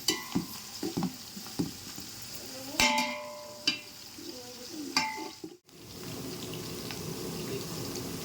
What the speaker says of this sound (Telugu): ఉల్లిపాయ పచ్చిమిర్చి కూడా వేయించుకోవాలండి